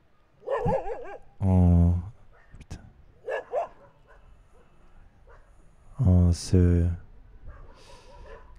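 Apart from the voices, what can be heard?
dogs barking outside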